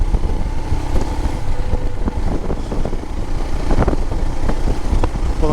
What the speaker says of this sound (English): hopefully you'll be able to pick up the sound of the motor as it is under load